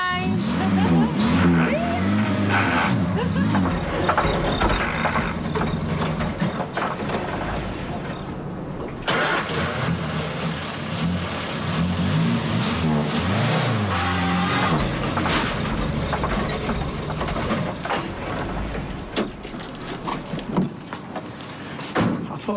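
A car engine runs through a driving lesson with the clutch in use, its rumble rising and falling with revs, mixed with cabin knocks and a steady background of road noise, with voices talking over it.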